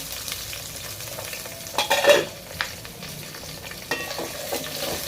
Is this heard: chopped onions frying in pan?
yes